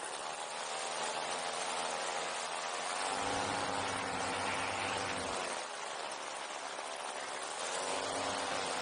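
A paramotor engine runs during flight, a steady low droning hum buried under constant rushing wind that barely changes level for about nine seconds.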